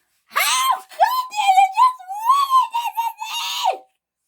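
A voiced character lets out a high, wavering scream in several drawn-out bursts, loud and close with brief gaps between cries.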